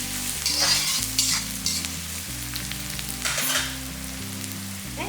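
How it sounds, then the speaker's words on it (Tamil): Onions and garlic sautéing in a pan for a milk curry give a close, lively sizzle with repeated scraping stirs. Background music plays underneath. "பாருங்க, இது எல்லாமே நல்லா வதக்கிடலாம்."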